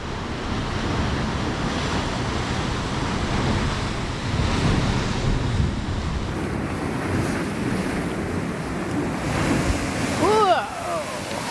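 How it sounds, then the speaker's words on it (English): Powerful ocean waves surge and crash continuously at a coastal blowhole, a loud, close, roaring wash of surf mixed with heavy wind noise buffeting the microphone, with a brief voice near the end. "Oh, wow, those powerful waves."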